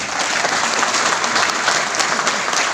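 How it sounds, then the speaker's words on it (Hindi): A crowd applauds steadily and loudly for a few seconds, dense clapping with no pauses. "एक दमदार ताली उनके लिए बनती है।"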